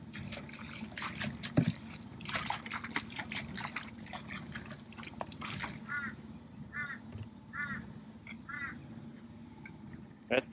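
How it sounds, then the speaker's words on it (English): Water is poured and trickles into an air release valve during servicing, a faint irregular splashing and dribbling with a few gurgling bubbles near the end, fairly quiet and close. "And pour a bit of water in."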